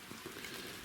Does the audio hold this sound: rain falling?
yes